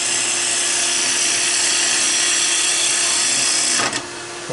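A woodturning tool cutting into wood spinning on a lathe, a loud steady rough hiss and whine that holds for several seconds, then briefly breaks off near the end.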